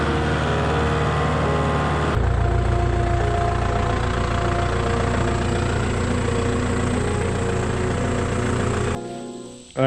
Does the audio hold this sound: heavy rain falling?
no